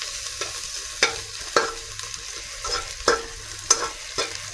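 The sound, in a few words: onions simmering in okra fish sauce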